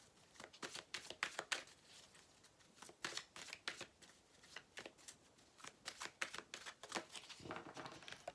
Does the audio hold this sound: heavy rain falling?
no